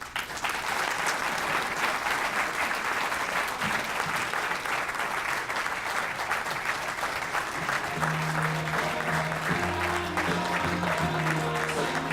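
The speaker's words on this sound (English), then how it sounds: "How about a big round of applause" Loud, dense applause from a crowd at a hall of fame ceremony honouring a 1990 field hockey team, steady clapping throughout, with a few voices and some low tones joining near the end.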